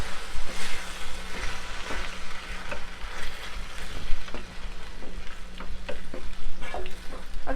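Baby corn chilly gravy bubbles and sizzles in a pan with half a cup of water, a continuous close simmering crackle with occasional ticks and light stirring clatter.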